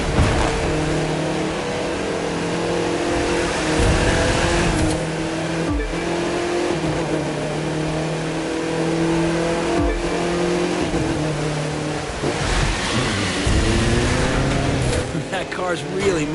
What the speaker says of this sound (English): That car's really moving.